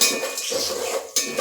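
A spoon scrapes and clinks against a metal pan while corn grains are stirred, giving a few quick scraping strokes with short pauses between them, close and fairly loud.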